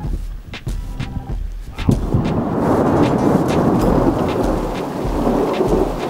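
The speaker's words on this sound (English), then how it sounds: "We hear thunder and lightning, and suddenly we're in the midst of this massive storm." Thunder rumbles loudly and continuously overhead during a heavy mountain-summit thunderstorm in western China, with steady hissing rain filling the background and a sharp crack near the start.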